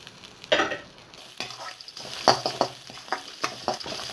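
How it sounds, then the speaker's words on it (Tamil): Snake gourd stir-fried with garlic and grated coconut in a pan: a soft background sizzle broken by several sharp scraping and clinking stirs of a spoon against the pan, irregular and close. "ஒரு 1 நிமிஷம் வதக்கிக்கலாங்க."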